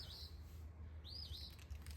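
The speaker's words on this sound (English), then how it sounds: "I think that bird just flew right out of it." A bird darts out of a nest in a gourd hanging on a porch, giving two bright sweeping chirps over a low outdoor rumble.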